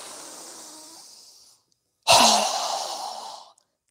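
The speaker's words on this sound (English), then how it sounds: "Strong exhale." A strong, forceful breath pushed out through the nose or mouth during a yoga breathing exercise. A softer breath fades out first, then after a short pause the sharp, loud exhale bursts in and tapers over about a second and a half.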